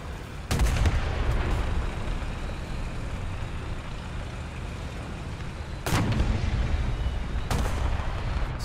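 Autocannon and heavy gun fire in the War Thunder combat game, with a few sharp booming shots over a steady engine rumble, fairly close and loud, no talking.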